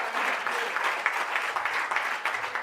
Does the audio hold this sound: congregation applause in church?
yes